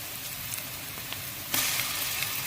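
Onions frying in hot oil for red rice, a quiet, continuous sizzle with small crackles that swells louder halfway through, no voices.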